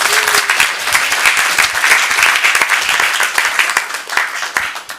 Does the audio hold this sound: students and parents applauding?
yes